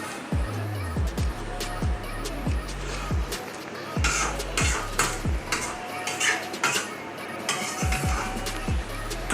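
Spoon scraping and clinking repeatedly against a pan while mushrooms are stirred, a regular rhythm of close metallic strokes with some faint sizzle underneath.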